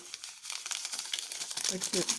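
A paper packet of vanilla sugar crinkles and rustles in quick, uneven bursts, close and fairly quiet, while someone prepares a sweet macaroni bake in a home kitchen.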